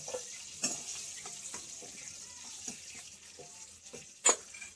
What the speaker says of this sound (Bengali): আর এই তেলেই আমি ডিমটা ভেজে নেব।